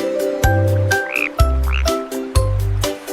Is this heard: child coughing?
no